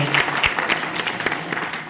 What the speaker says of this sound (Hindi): उमन के लिए आप मन सही हृदय से ताली बजाओ।